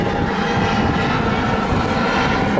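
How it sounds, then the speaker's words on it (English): An airplane flies overhead above a shoreline during evening grass-shrimp fishing, its engine a loud, steady droning roar that fills the whole moment without fading. "I'll wait for this plane to go by."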